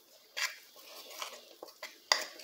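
A utensil stirs tapioca starch dough after boiling oil is poured over it, giving a few scraping, clinking strokes against a bowl with faint sizzling between them.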